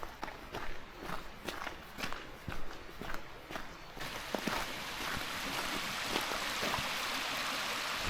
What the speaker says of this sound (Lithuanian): Girdisi, kaip upelis šniokščia.